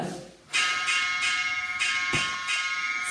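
Boxing-style bell ringing during a HIIT total body workout session, several loud metallic strikes in quick succession with long shimmering ringing tones that sustain and overlap, no talking.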